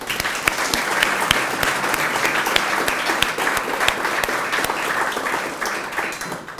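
Audience applause at an employee recognition and service awards ceremony, with steady, dense clapping from a large crowd that fills the room without a break.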